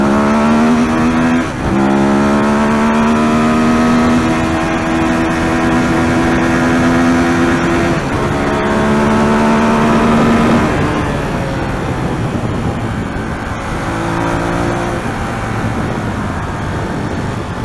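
A Ducati Monster 821 motorcycle engine on a speed run, loud and close, climbing in pitch through the gears with brief dips at each shift and rising again, with no talking.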